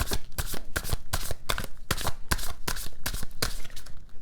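A tarot card deck is shuffled by hand, a rapid run of crisp riffling bursts about four a second, close and loud with no voices.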